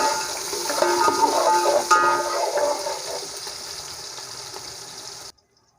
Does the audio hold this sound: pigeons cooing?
no